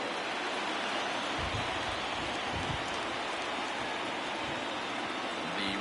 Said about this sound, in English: the rain's starting to intensify here. It's coming down a little heavier now